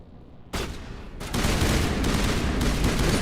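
Mass Effect Legendary Edition combat, with dense, continuous bursts of gunfire starting abruptly and growing heavier into a loud, sustained barrage.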